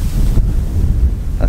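Steady wind buffets the microphone beside poppy fields, a continuous low rumbling roar with no other clear sound.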